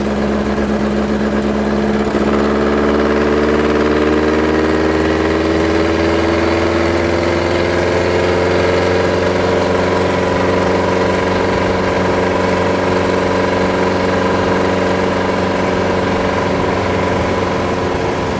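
A 1969 Volkswagen dune buggy sand rail runs up through its gears, the air-cooled engine droning loud and close, its pitch climbing steadily as it pulls along.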